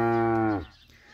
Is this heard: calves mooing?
yes